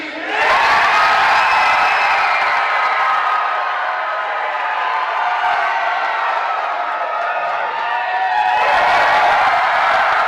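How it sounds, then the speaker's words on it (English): A wrestling event crowd roars continuously and loudly, sustained cheering and screaming filling the arena, swelling again near the end. "this crowd is absolutely ballistic"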